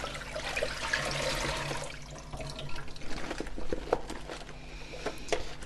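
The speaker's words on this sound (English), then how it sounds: "I would pour out the water." Water pours out of a container used to soak lettuce, giving a steady splashing rush that tapers into lighter trickles and drips.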